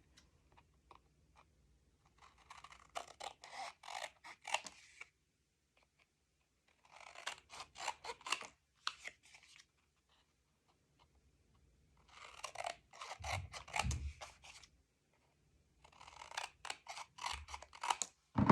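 Scissors snip through a paper corner on an album page in four separate bursts of quick, close crunchy cuts, with quiet pauses between them.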